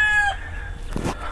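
Rooster crowing nearby, a short clear high-pitched call that breaks off, followed by a brief rustle.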